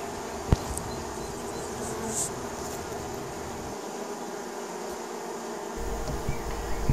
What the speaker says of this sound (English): a bee is removing a dead larva from the honeybee colony